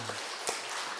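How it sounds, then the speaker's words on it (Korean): A brief, dense wash of applause from a church congregation, steady and fairly faint, with a few clearer claps standing out. "하나님께 영광의 박수 돌려드리겠습니다"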